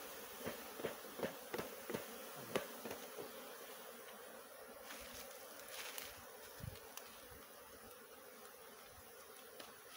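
Honey bees (Apis) buzz steadily during a hive rescue outdoors, a continuous insect drone with several sharp closer passes of individual bees flying by the microphone.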